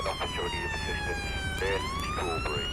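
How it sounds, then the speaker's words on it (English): A wailing British police siren in a police video game sweeps up and down continuously, loud and close, with a synthetic game-like quality and no talking. "just so we're not getting deafened by the British police sirens"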